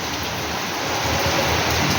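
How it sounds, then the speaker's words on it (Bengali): Heavy rain falls in a steady, dense hiss that stays even and loud from start to finish, with no voices. "এই যে এরকম বৃষ্টি পড়ছে"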